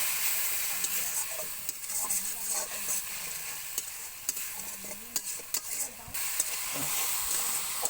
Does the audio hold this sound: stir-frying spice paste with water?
yes